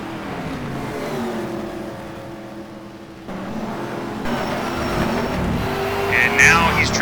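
Race cars overtake at Pukekohe Park Raceway in a racing game, engines droning and revving loudly with shifting pitch as cars pass, while a commentator talks over the action and the engine noise swells toward the end.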